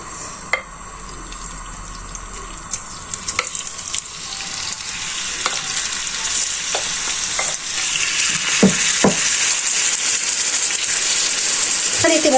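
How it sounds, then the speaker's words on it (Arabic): Chicken fries in hot oil in a pan with a steady, bright sizzle that grows louder over time, and occasional clinks and stirring taps come through close by. "ندير فيها شويه الزيت ونديرو هاد الدجاج تاعنا"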